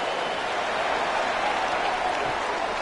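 A football stadium crowd roars steadily through a night game between Wyoming and New Mexico, a dense continuous wash of cheering with no breaks.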